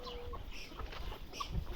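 Hens cluck softly in short scattered calls, a few brief notes over a quiet background, fairly faint with no talking.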